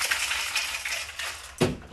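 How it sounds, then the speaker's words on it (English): Cocktail shaker with ice, amaretto and orange juice shaken for a drink, giving a steady rattling, clattering rush for most of the moment, ending in a sharper thud near the end. "give it a good little shake"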